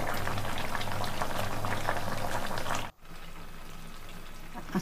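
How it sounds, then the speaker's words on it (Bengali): Cabbage curry boiling in a covered pot, a steady bubbling rumble that drops out abruptly and then resumes as a quieter, even simmer, close by with no talk. "ফুটতে দিতে হবে।"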